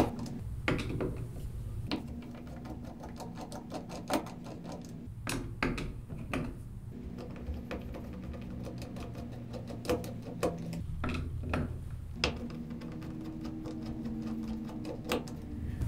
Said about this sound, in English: we can undo the 4 screws holding the control board to the extrusion